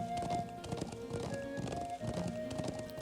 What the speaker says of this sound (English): I doubt they can run for an hour straight, like what I've been doing to this horse.